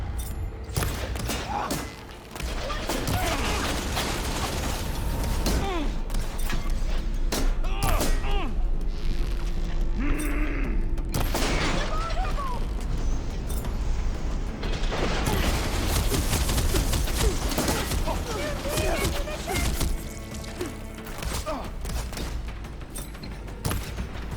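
Dense gunfire and explosive thuds from a battle in Horizon Forbidden West, sustained and loud throughout, with game voices speaking over the shooting.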